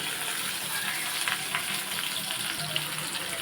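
Onion pieces frying in oil for a tomato and egg curry make a soft, steady sizzling hiss, faint and even, with a few light crackles.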